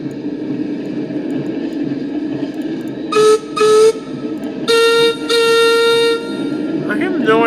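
A steam locomotive on a mountain railway, Peter Sam, sounds its whistle in four bright tonal blasts, two short and two longer, over a steady background rumble, followed by a brief wavering toot near the end.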